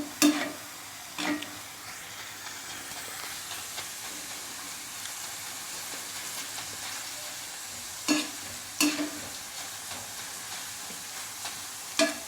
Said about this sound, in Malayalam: ചക്ക ഇങ്ങനെ ഇളക്കുവാണ്.